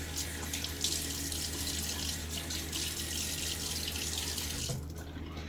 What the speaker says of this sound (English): Now I'm gonna put some water on my face.